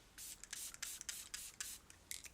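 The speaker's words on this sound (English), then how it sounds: "As I'm spraying my face, I can feel like there's one spot where it's not coming through." A makeup setting spray bottle pumped repeatedly toward the face, each press a short, soft airy hiss in a quick irregular series, faint and close with no talking.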